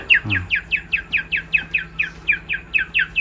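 A bird chirps in a quick, regular series of about fifteen bright, repeated notes, close and clear against a faint background hum, on a quail farm.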